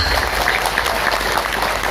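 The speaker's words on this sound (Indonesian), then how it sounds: "tepuk tangan untuk eksa" A gathering at a religious talk (pengajian) applauds for Eksa, a brief, even roar of many hands clapping at close range.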